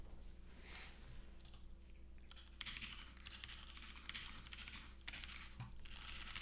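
Keystrokes on a custom Cypher R2 mechanical keyboard during a typing test, a fast uneven patter of clacks in bursts with short pauses, close and fairly quiet, no talking.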